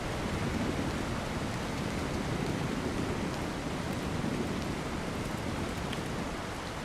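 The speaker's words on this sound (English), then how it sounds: "So that's the roar of the water." Roaring water in ARK Survival Ascended, a steady, even broadband rush that holds constant throughout with no speech, like a distant waterfall or heavy flow.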